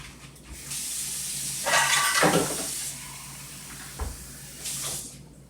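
Water runs and splashes in short bursts, a close pouring stream into pastry dough that starts, pauses, and resumes, with no one speaking.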